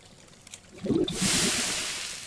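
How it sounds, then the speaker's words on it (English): Metal melting in a crucible in the mining game Hydroneer: a few soft clunks, then a sudden loud bright hiss or sizzle that holds and slowly fades. "Now you'll hear it when it actually melts."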